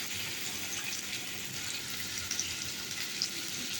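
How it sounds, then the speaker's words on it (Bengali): Potatoes and slit green chillies frying in hot oil, a steady close sizzle with a few small pops and spits, continuing evenly throughout without any voices. "এই যে দেখো, আলুটাকে লাল করে ভেজে নিচ্ছি।"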